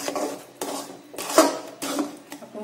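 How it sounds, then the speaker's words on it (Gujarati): A spoon scraping and clanking against a metal pan while a thickening sweet mango mixture is stirred, a few distinct rhythmic strokes close up with no talk. "તો આ રીતે આપણે બરાબર હલાવી લઈશું."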